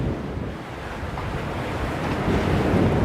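Choppy ocean waves surge and wash continuously under gusting wind during a storm off the coast at Busselton, Western Australia. Wind buffets the microphone, and the surf builds louder toward the end.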